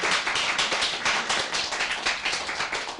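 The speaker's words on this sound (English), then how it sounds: "I will transmit your applause to Wang Xiaoni, who deserves it." Dense applause from a poetry reading audience, many hands clapping together in a steady, fairly loud wash for the whole stretch.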